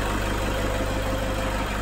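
A first-generation Toyota Fortuner diesel engine idles with a steady low rumble and an even mechanical hum, close and unchanging over a brief stretch, with no voices.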